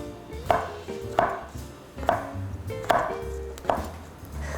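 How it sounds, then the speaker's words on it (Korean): Knife slicing fresh shiitake mushrooms thin, about 3 to 4 mm, on a cutting board: five crisp, evenly spaced chops close up, with no talk. "이것도 그냥 이렇게 납작하게 써시면 됩니다"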